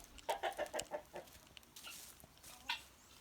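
Guinea fowl give a quick run of close, scratchy clucks and chirps, then a few scattered calls after a short pause, with no talking.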